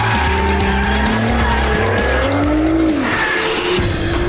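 A Nissan GT-R accelerates hard on a track with a loud, steady engine note, rising pitch and tire squeal, constant and close throughout with no talking.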